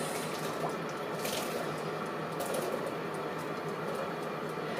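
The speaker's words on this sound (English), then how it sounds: "drain your water off" A steady rush of water pours and splashes continuously as a pot of boiled potatoes is tipped out into a sink, with no voices.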